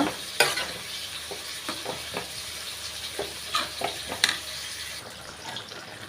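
A spoon stirs spinach kootu with turmeric in a pan, scraping and clacking in irregular strokes over a soft sizzle, close and moderately loud with no talking.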